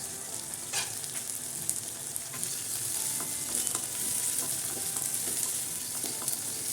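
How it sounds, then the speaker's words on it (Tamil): Onions sauté in oil for a pepper curry, a continuous close sizzle broken by scattered spatula scrapes and light clinks, with no one speaking. "வெங்காயம் வந்து கொஞ்சம் நல்லா எண்ணெயிலேயே நல்லா வதங்கட்டும்."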